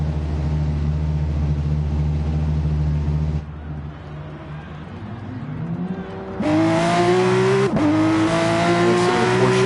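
A Porsche GT3 race car idles and then revs as it leaves the pits at Barcelona, a steady engine drone that drops away before the pitch climbs through sharp, loud upshifts.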